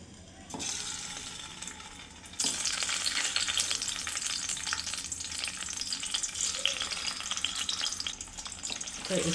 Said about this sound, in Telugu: ఇప్పుడైతే ఫస్ట్ నేను ఎగ్స్ అయితే ఫ్రై చేసుకుంటున్నాను.